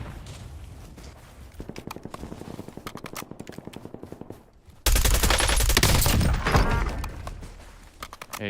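AK rifle fire in Call of Duty Warzone, a rapid automatic burst of close shots followed by a louder, denser spell of gunfire and clatter.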